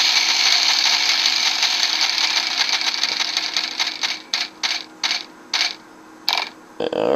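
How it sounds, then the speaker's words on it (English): In a Wheel of Fortune video game, the bonus wheel spins with a fast, dense run of ratcheting clicks that thin out into slower separate ticks as it comes to a stop. "Let's spin the bonus wheel."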